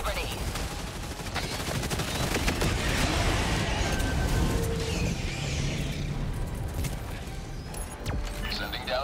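Helldivers 2 gameplay of a solo high value asset defence against bugs on top difficulty, with dense rocket and gunfire bursts booming through a loud, continuous battle din while a voice talks over it.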